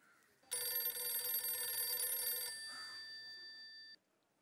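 A telephone rings loudly in a steady electronic trill for about two seconds, followed by a fainter sustained tone that fades out, with no talking over it.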